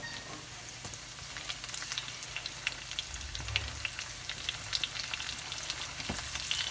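Tomatoes tossed into a pan of thinly sliced onions frying for brisket tacos, giving a steady crackling sizzle with scattered pops and a brief low thump, close and without voices.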